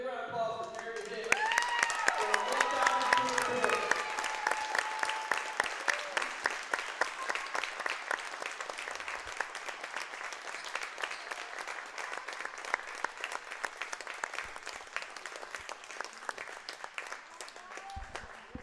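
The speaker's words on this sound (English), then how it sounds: "let's give a big round of applause for Jeremy Hicks" An audience at a boys' basketball game between Morris and Kellyville applauds a player reaching 1,000 points, loud sustained clapping that begins abruptly, rings through a gym, then slowly thins and fades.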